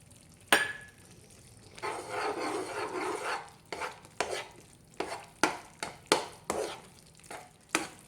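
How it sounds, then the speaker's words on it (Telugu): Cashew pieces stirred in ghee for cornflour halwa: a soft sizzle with a spoon scraping the pan in a longer stretch, then a run of short, distinct scraping strokes at an uneven rhythm, close and fairly quiet. "ఇంకొక స్పూన్ నెయ్యి, ఇంకొంచెం సేపు తిప్పుకుంటూ ఉండాలి ఇలానే"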